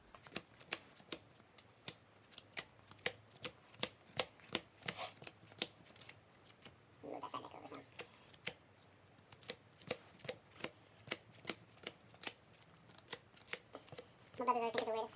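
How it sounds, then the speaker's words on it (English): Sleeved Yu-Gi-Oh trading cards are power shuffled in a steady run of sharp, crisp riffling clicks, with a louder, denser burst of card slaps near the end. "Now for the power shuffle."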